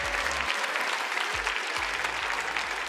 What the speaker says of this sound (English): Let's have one more round of applause for our winners, our finalists, and all of our competing teams today.